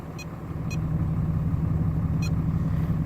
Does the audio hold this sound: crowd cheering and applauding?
no